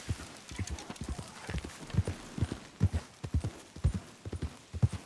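Horse hooves clip-clopping in Red Dead Redemption 2, a steady, loud rhythmic trot of hoofbeats continuing throughout with a faint background hum.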